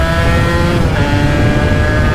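A 1990s 125cc two-stroke motorcycle engine revving loud and close, a steady buzzing drone with a slight rise in pitch, no talk.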